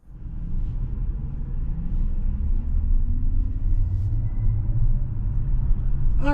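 A 2024 Kia EV6 GT Line Long Range, rear-wheel drive, pulls out onto the road, giving a steady low rumble of road and tyre noise inside the cabin that holds evenly throughout, with a brief higher chime near the end.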